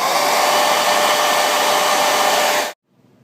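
Hair dryer heating a black carbon fiber skin on a 13-inch MacBook Pro so it adheres: a loud steady close-up blowing roar for nearly three seconds, then cut off abruptly to near silence.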